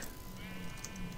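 A sheep bleats in a Minecraft minigame, a brief faint synthetic bleat over steady background game hum.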